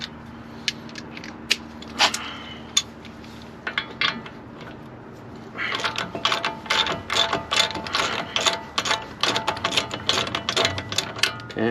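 Ratcheting clicks from a wrench loosening an 18mm bolt on the front wheel bearing of a 2008 Chevy Suburban, sparse at first, then a steady run of quick close clicks.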